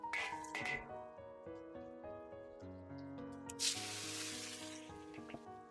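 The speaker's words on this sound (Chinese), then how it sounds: "这里我们也要加点清水。" Water splashed into a hot pan while stir-frying bursts into a loud hissing sizzle that trails off over a couple of seconds, set against quiet background music.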